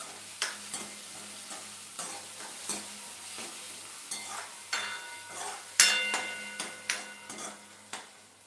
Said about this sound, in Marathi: टोमॅटो चांगले आपले तेलात चांगले परतून घ्यायचे